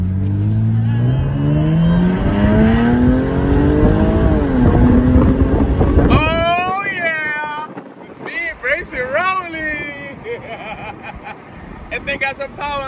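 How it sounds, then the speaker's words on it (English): A 2019 Jaguar F-Type S coupe accelerates hard, its engine rising steadily in pitch through the gears before cutting off, then revving again in shorter bursts while people talk and shout excitedly. "We're going to take our brand new 2019 Jaguar F-Type S for a drive."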